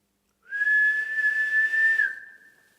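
A single clear, steady whistled note held for about a second and a half, rising slightly at the start and fading out at the end.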